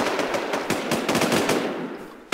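Rapid bursts of gunfire rattle out in the Infestation video game, a dense string of close, loud shots that fires steadily for about two seconds before stopping, with no talking.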